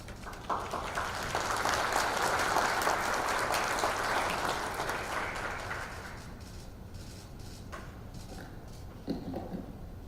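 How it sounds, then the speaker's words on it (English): At an international conference marking the Constitutional Court of Korea's 30th anniversary, a formal audience gives a steady round of applause to welcome the speaker, swelling then thinning to a few scattered claps. "Please welcome him with a round of applause."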